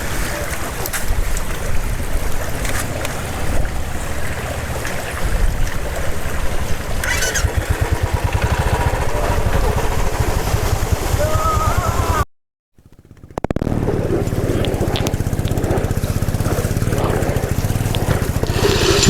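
A Royal Enfield motorcycle engine labours through deep water with a loud, steady throbbing drone and churning splashes, close and continuous, cutting out briefly before roaring on again.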